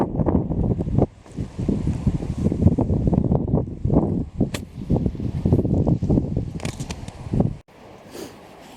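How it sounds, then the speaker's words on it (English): Strong gusting wind buffets the microphone beside a mountain lake, roaring in heavy surges that rise and fall for several seconds before dropping away near the end. "It's really windy here."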